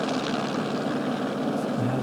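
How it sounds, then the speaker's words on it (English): A helicopter hovers overhead during a cycling race, a steady distant rotor drone forming a continuous wash with no clear speech over it. "The helicopter just hanging overhead."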